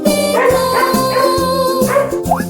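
A cartoon dog yips and barks in short repeated bursts over a bright, bouncy children's music track, loud and upfront with no talking.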